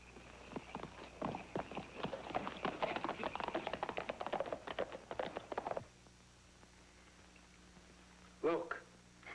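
A horse's hooves clip-clopping at a steady walking pace, a rapid string of sharp clops lasting several seconds before stopping, followed by a brief louder knock near the end.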